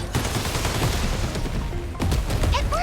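Rapid gunfire in the video game 13 Sentinels, a dense, loud, continuous rattle of shots with no pauses and no voices.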